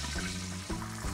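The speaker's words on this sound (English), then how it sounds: "we're gonna put in our Thai basil, and you wanna make sure you have a lid on hand to protect you from the splash." Thai basil leaves dropped into hot frying oil give a steady, loud crackling splash, a broad watery sizzle that carries on without a break for about a second.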